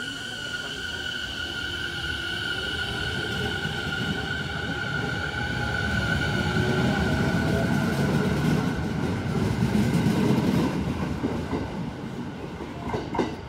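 A rapid train pulls into a Japanese station with a sustained rumble and rhythmic wheel clatter that swells as it nears, accompanied by a steady high tone.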